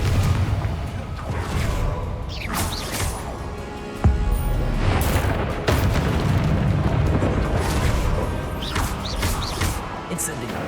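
Blasting-curse explosions cast during a Hogwarts Legacy duel, several sharp bursts and crashes amid spell effects and game music, with a player speaking over the action at moderate level.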